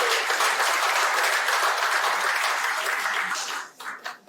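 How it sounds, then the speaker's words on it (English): An audience claps in a round of applause at an event, dense and sustained for several seconds before thinning out into a few scattered claps. "Please let's give him a round of applause."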